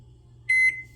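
A microwave oven gives a short electronic beep as it starts, a bright near tone that repeats once and fades over a low background hum.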